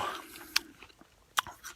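Two sharp, crisp crunches of someone biting into fresh fruit picked straight from an allotment tree, close to the mouth and spaced under a second apart, with quiet chewing between them.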